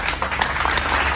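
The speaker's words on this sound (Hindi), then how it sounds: "चलो भाई सभी लोग ताली मार दो यार इस ठंडे के लिए।" A crowd gathered in a public place during a street magic show claps together, a dense, steady burst of applause filling the moment at close range.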